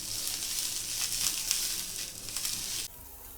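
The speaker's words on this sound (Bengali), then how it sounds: "দিয়ে কিছুক্ষণ ভাজতে হবে পেঁয়াজ এবং রসুনটিকে।" Chopped onion and garlic fry in a pan for a jackfruit-seed mash, making a soft, continuous hiss that stops abruptly near the end.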